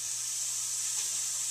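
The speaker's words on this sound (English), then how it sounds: "Listen to that sizzle." Burgers sizzle on a George Foreman grill set to 360, giving a steady, even hiss with a faint low hum beneath it and no talk.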